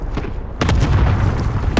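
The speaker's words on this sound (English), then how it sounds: "Allied cluster strike arriving." A cluster strike explodes in Call of Duty: Modern Warfare, with a sharp pop followed by a deep, sustained booming rumble and another crack near the end.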